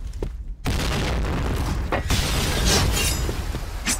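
Grenade explosions in a competitive first-person shooter match: loud booming blasts with shattering debris follow one another after a brief silence, dense and close, with sharp cracks and rumbling throughout.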